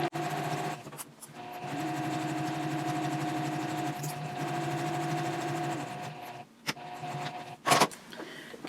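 A sewing machine stitches a fabric basket stiffened with Peltex, its motor humming steadily in two long runs with a brief pause between, then stopping amid a few soft handling clicks and bumps.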